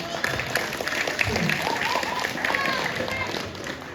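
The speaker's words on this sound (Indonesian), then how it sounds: "Beri tepuk tangan yang meriah" An audience at a Balinese comedy show gives a lively round of applause, a continuous crackle of clapping mixed with crowd noise and voices talking over it.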